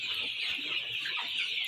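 A flock of two-month-old meat chickens clucking on a poultry farm, a dense, steady chorus of overlapping clucks at close range with no talking.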